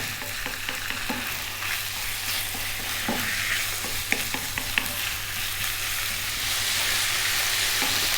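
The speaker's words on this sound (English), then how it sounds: "3 minutes, high heat, keep it moving" Thin pieces of skinless, boneless chicken breast stir-fry on high heat, a strong continuous sizzle close by with rapid tapping and scraping as the pieces are kept moving, no speech.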